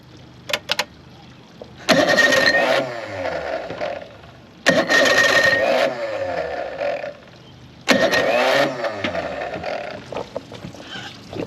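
A Chrysler outboard boat engine with the choke pulled out is cranked three times, with each loud attempt lasting about two to three seconds and separated by pauses. It coughs and turns over without settling into a steady idle.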